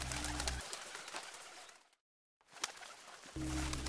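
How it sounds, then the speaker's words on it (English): A pigeon coos in a few soft, low throaty calls against a bird-filled outdoor background. The sound drops briefly to silence midway before the cooing returns. "Pigeon."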